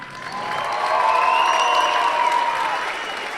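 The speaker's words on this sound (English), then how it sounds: "let's hear a clap" An audience at a school winter band concert claps and cheers, a swelling burst of applause with whistles and shouted voices rising over it, peaking midway then easing off.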